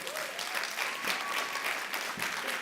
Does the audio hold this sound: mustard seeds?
no